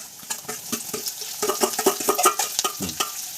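Onions frying in oil seasoned with mustard seeds and cumin, with a steady sizzle and repeated close scraping and clinking of a spoon stirring in the pan.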